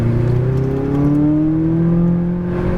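McLaren 570 sports car accelerating hard at full throttle on a track, its engine note rising steadily in pitch as it pulls through the gears, loud and continuous with no talk over it.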